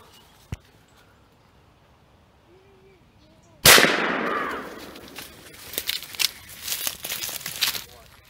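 An Octane pistol fires a single sharp, close shot while road hunting squirrels among trees, its loud crack decaying quickly. A faint click comes earlier, and rustling and handling noises follow the shot.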